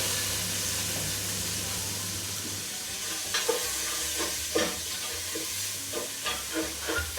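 Prawns sizzle in a hot pan with vegetables, a constant frying hiss broken by stirring scrapes and bursts of crackle toward the end, close by, without talk.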